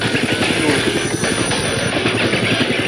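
A helicopter starting up in a hangar gives a loud, steady engine whine with a dense rhythmic rotor chop throughout, close and continuous.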